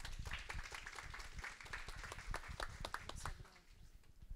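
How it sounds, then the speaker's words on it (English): Audience applause at a seminar on traceability and circularity in the international leather supply: faint, scattered claps from a modest crowd that continue for several seconds and thin out toward the end. "An applause to Gustavo."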